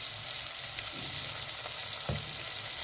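Cumin seeds sizzle steadily in hot oil in a frying pan, with a couple of soft stirring clicks over the continuous hiss, while garlic cooks for an ivy gourd and onion dish.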